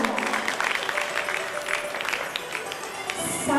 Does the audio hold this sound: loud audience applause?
yes